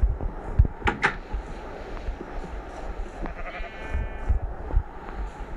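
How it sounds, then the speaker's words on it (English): Minecraft sheep bleat in a survival world's sheep pen, a few short nasal bleats standing out over a busy, rustling background with scattered clicks. "Here is the sheep place."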